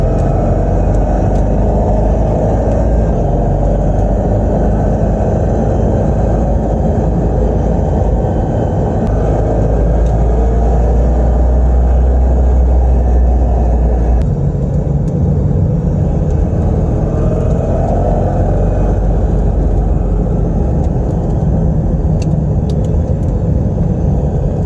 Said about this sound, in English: listen to the car as we're going through this.